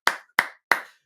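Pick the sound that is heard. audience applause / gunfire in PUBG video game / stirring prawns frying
audience applause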